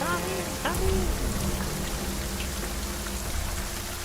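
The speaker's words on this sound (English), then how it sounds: "it's quite loud out here in the rain" Steady rain falls outside a tree house, a dense, even patter of drops that runs the whole time, with a voice heard faintly in the mix.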